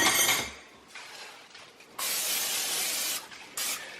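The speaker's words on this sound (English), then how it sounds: "I'm going to lightly spray my pan here" Cooking spray hisses onto a baking pan in a home kitchen, with several short bursts of close, sharp hissing separated by quiet pauses.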